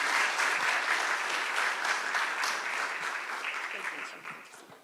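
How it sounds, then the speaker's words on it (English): A church audience clapping steadily as a woman comes forward to speak, dense and sustained before tapering off near the end, with voices mixed into the applause. "Maybe we can clap as she comes forward"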